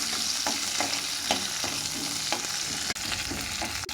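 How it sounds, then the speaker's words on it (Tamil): Cumin, shallots, garlic and green chilies sauté in a pan for a drumstick leaf dosa, giving a steady close sizzle broken by regular scraping stirs about every half second. "இப்போ இது எல்லாத்தையும் நல்லா வதக்கிக்கலாம்."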